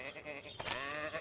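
Cartoon sheep bleating, a short wavering baa under French dialogue.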